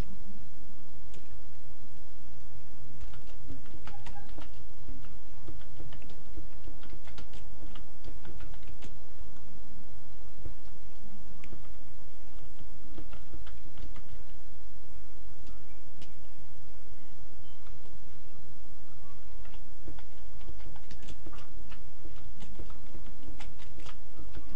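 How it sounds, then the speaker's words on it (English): Typing on a computer keyboard, a steady patter of light key clicks going on for a long stretch over a constant background hiss, close and moderately loud, with no talking. "Now we're just going to type what we want to say"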